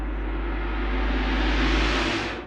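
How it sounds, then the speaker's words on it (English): A tam-tam gong stroke is played in reverse, a dense shimmering wash of metallic noise swelling steadily louder over about two seconds and then cutting off abruptly, with no voices. "if you take that into a digital audio workstation and reverse the waveform, it would sound something like this"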